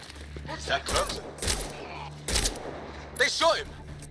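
Gunfire in the video game Mass Effect Andromeda: several sharp broadband bursts spaced about a second apart, mixed with chattering game voices and background combat noise.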